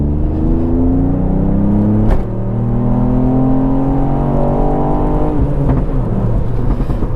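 Tuned 265bhp Dreamscience Mk8 Ford Fiesta ST engine pulling hard in third gear, a loud continuous rising drone with climbing harmonics heard from inside the car, briefly interrupted by a click near the start.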